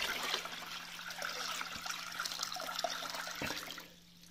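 Water poured from a bucket, a steady splashing and gurgling pour lasting a few seconds before tapering off, with a faint low hum underneath.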